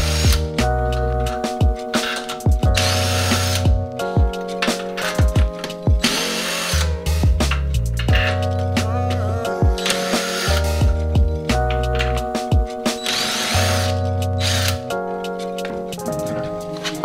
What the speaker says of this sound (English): So I'm removing this 4 10 millimeter nuts here.